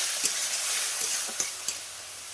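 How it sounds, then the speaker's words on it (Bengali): Spice paste of salt, chili powder, turmeric and a splash of water being stir-fried in oil for a sardine curry, loud continuous sizzling with a few sharp scrapes of a spoon. "দিয়ে মশলাটা আমি ভালো করে কষে নেব।"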